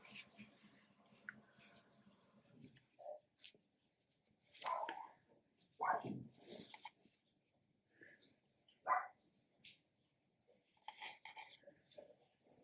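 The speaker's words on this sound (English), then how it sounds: "My dog's barking and the kids are in the kitchen." A dog barks in the background of a home while kids are in the kitchen, with a few short, faint barks scattered among quiet household noises and soft whispery sounds.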